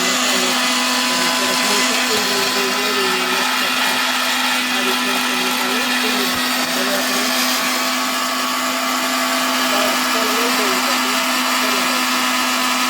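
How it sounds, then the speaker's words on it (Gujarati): An electric mixer grinder grinds spice masala for dal in a village home kitchen, with a loud, steady whirring motor roar that runs unbroken from start to finish. "હવે આપણે મિક્સરમાં પીલી નાખશું"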